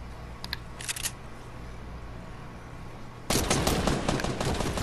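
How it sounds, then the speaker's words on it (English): Gunfire in the Fortnite video game: two short distant shot bursts early on, then a loud sustained rapid volley of shots for the last seconds, no talking. "Now you're gonna start shooting trees."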